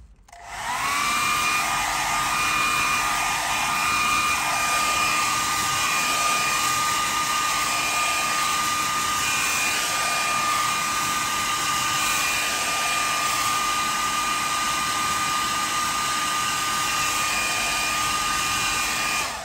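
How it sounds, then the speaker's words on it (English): A hair dryer blows steadily at close range on a leather steering wheel, a constant whooshing roar with a high whine that holds unchanged throughout. "This is the joys of using a hairdryer."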